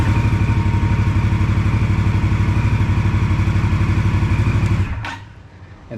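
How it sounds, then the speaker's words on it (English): A 2022 Indian Scout Bobber V-twin idles with a loud, close, steady lumpy throb for several seconds, then shuts off abruptly and leaves near silence. "And it cranks up on its own"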